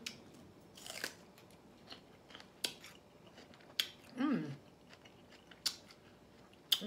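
Celery dipped in ranch dressing is bitten and chewed up close, giving several sharp, wet crunches spaced a second or so apart in an otherwise quiet room.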